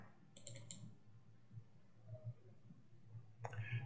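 Mouse clicks in chromatography software come as a quick cluster of three or four light, close clicks, then a lone click a few seconds later, over a low steady hum.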